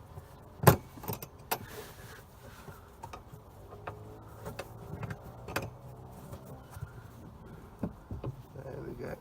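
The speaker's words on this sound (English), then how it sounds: "spin the Allen key from this side" A ball-ended Allen key turns a bolt on the rear seat delete bar of an Audi TT Quattro Sport, giving scattered close, quiet metallic clicks and taps with small ratchety scrapes in between.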